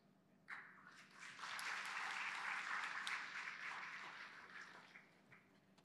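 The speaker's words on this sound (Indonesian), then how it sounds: "Boleh tepuk tangannya kembali Mas dan Mbak, dan kepada Mas Yory." Audience applause at the close of an architecture talk and discussion session in Jakarta, clapping that swells quickly, holds steady for several seconds, then thins out and fades, heard fairly far off and soft.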